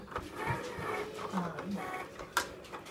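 A Cricut Explore One cutting machine cuts felt with a deep blade on a strong grip mat, its carriage motor whirring and ticking in short, uneven bursts at close range, with talk faintly in the background.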